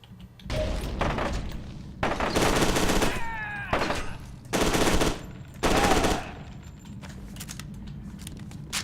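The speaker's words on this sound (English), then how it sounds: "Alright, time to shoot things." Rapid bursts of automatic gunfire from the first-person shooter F.E.A.R. 2: Project Origin, loud and close, arriving in several separated volleys of about a second each with brief quieter gaps between them.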